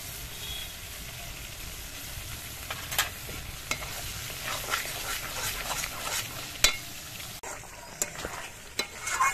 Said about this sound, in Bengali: পাঁচ মিনিট মশলাগুলোকে কষিয়ে নিয়ে